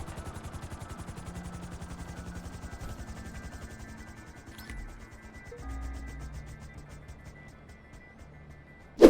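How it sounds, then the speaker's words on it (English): A helicopter in the video game GTA 5 flies with a steady rapid rotor chop over a low engine drone. It is moderately loud and continuous, with a short sharp burst at the very end. "escape quickly in your helicopter and move on to number 21"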